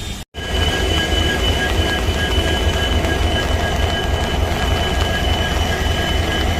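A train arrives at Subramanya Road railway station in Karnataka with a loud, continuous rumble and rolling wheel noise, and a faint squeal runs steadily underneath, close and unbroken after a brief cut at the start.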